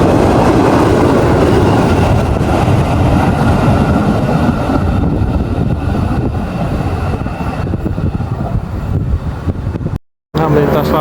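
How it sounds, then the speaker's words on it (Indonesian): A KRL JR205 commuter train, Bogor–Jakarta Kota service, rolls past on track 3 with a loud, steady rumble and wheel clatter that eases slightly before cutting off abruptly. "melintas lagi jalur 3 RL JR205 relasi Bogor, Jakarta Kota Bogor"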